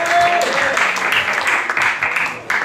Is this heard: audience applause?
yes